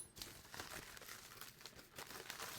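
Packing tape is pulled off a roll and torn while a VHS tape is being packed for shipping, giving a quiet crinkling, ripping stretch that lasts a couple of seconds with no talk.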